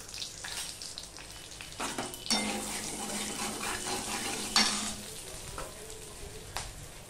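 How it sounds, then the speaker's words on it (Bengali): Pointed gourd (potol) pieces, seasoned with a little salt and turmeric, fry in a small amount of oil. A steady, close hiss starts partway through and swells into a loud, crackling sizzle, then settles into lighter spattering. "যেহেতু আমি চিংড়ি মাছটা করবো আলু পটল দিয়ে, সেই জন্য পটলটাকেও আমি ভেজে নেব"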